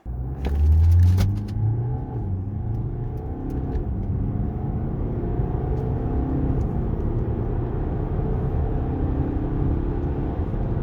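A BMW 318d G21 diesel wagon with 150 hp accelerates from 0 to 100 km/h, heard from inside. It gives a loud engine surge at the start, then a steady droning rumble with road noise. No one speaks.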